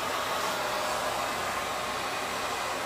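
A regular hair dryer fitted with a nozzle attachment blows a loud, even, unbroken airy rush close by for a few seconds, with no voices.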